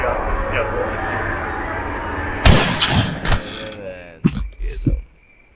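A gunshot in the horror video game Granny 3 cracks out sharply over a steady mechanical hum, followed by a few more loud bangs and clattering impacts before the sound cuts off near the end.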